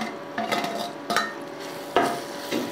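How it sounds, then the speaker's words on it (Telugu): Cucumber pieces frying in a curry pan, with a soft, steady sizzle broken by a few scraping stirs of a spoon against the pan, close and fairly quiet with no talk. "ఇప్పుడు దోసకాయ ముక్కలు కూడా వేసుకుంటున్నాను"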